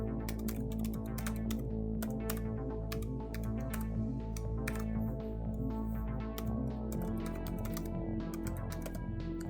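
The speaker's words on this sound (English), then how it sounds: "Now type in or copy the email that we just wrote down." Quick bursts of keys clattering on a computer keyboard as an email address is entered, close and continuous over a faint steady tone, no speech.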